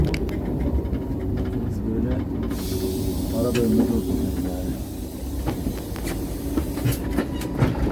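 Steady rumble and hiss of a moving passenger train heard from a seat inside a carriage on an Interrail trip from Paris toward Amsterdam, with faint rhythmic rail clicks and occasional soft voices in the carriage.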